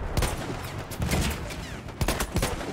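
Rapid bursts of video game gunfire in a tank battle: clustered cracks and volleys repeat across the moment, loud and close, with no voices.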